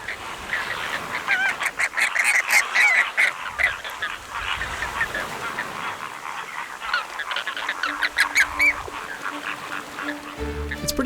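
A big flock of flamingos calls together on an East African shore, with overlapping honking, goose-like cries that rise into dense bursts and ease off, close and loud throughout with no talk.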